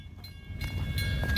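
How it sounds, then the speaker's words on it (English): A Norfolk Southern freight train rumbles and rattles, growing steadily louder as it nears, with a low heavy clatter. "Here comes our train!"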